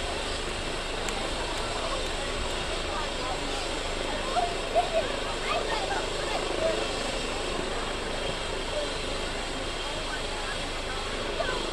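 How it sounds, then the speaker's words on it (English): A helicopter parked at a high school football field starts its rotors, a faint, steady whine and drone in the distance under a commentator's talk. "Propellers may be firing up again."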